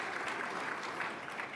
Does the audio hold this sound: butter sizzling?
no